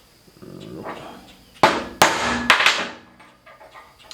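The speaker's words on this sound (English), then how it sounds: "gonna center punch these." A hammer strikes a center punch on steel in a blacksmith's shop, a few sharp metallic blows in quick succession, close and loud, with quieter tapping before them.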